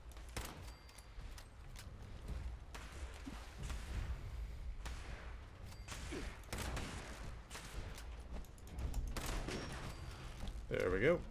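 A scoped rifle and other weapons firing in Fallout 76, with scattered shots and thuds over a busy game soundscape, moderately loud and irregular, ending in a sharper burst.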